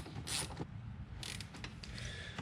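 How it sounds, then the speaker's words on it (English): Car battery being reinstalled in a third-generation Toyota Tacoma: quiet metallic scraping, creaks and a few dull clunks of handling, close by and with no talking. "Reinstall the battery."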